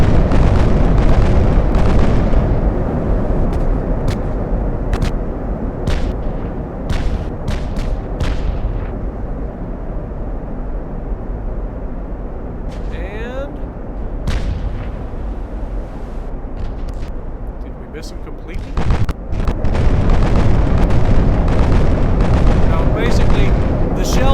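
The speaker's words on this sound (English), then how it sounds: "One salvo of just real time firing of those 8-inch." Salvo of 8-inch naval guns in the warship game Ultimate Admiral Dreadnoughts, heavy booming blasts rolling over a continuous dense roar of battle, with a louder burst of firing near the end.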